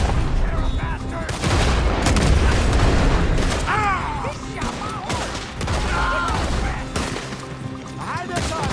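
Rapid gunfire fills a Red Dead Redemption 2 shootout, with volleys, booms and bursts of shots running throughout amid shouting voices and game effects.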